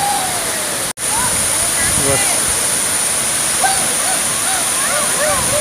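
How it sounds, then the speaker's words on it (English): Rimbi waterfall in Sikkim roars as a steady, loud broadband rush of falling water, with a brief dropout early on and a person speaking faintly once over the constant torrent. "I'm showing you the waterfall."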